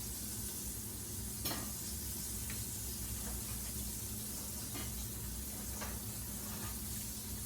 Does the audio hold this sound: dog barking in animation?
no